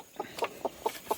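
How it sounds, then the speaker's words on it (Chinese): A broody hen in a rural mountain farmyard clucks five times in an evenly spaced rhythm, each cluck short and nasal, close by and fairly quiet, with no talking around it. "这只抱窝母鸡也不知道抱窝多少天了啊"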